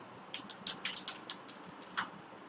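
Light keystrokes on a computer keyboard enter a terminal command, a quiet irregular run of about a dozen close clicks.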